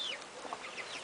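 Farmyard hens make a brief burst of soft clucking near a rooster, faint and close, lasting about a second with no voices.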